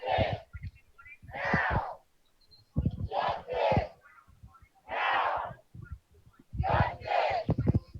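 A street protest crowd shouts and chants in loud, repeated bursts separated by short lulls, the voices massed together and fairly close.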